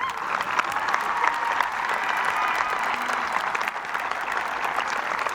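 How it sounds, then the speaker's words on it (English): A graduation crowd at a 2018 high school commencement applauds the class, a dense, sustained roar of many hands clapping at an even level throughout. "Let's give them another round of applause."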